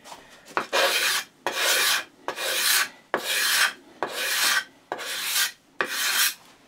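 A card scraper is dragged across softwood to strip an old finish, making seven loud, rasping strokes in an even rhythm, each a scratchy burst followed by a brief pause.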